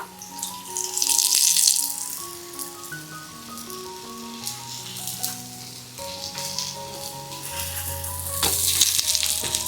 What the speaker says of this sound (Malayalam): ഒരു വശം മൊരിഞ്ഞ് വരുമ്പോൾ തിരിച്ചിട്ട് കൊടുക്കുക